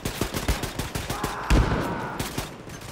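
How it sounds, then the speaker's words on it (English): A chain gun fires in the Wolfenstein video game as a fast, loud run of rapid shots. A heavier blast lands midway, and the fire tapers off toward the end. "Why does it sound like a chain gun?"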